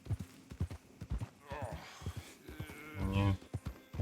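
Horse hooves clip-clop in a steady walking rhythm in the video game Red Dead Redemption 2, close and distinct, while character voices speak over the hoofbeats.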